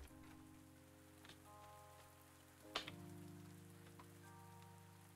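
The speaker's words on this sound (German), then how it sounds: "es regnet, das ist schön" Rain in the farming video game Pumpkin Days, a soft, faint patter of drops under steady musical tones, with a brief louder splash partway through.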